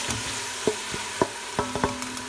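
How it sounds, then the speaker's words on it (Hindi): Tomatoes and green chillies stirred in a frying pan with a steady sizzle underneath and several distinct scraping and tapping strokes of the spoon, close and without talk. "अब हम इसमें टमाटर और हरी मिर्च डाल देते हैं इसको चलाते हैं"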